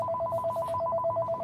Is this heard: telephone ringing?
yes